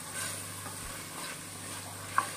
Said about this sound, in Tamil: நம்ம ஒரு 5 நிமிஷம் நல்லா வதக்கிட்டு அப்புறம் கறியை சேர்க்கணும்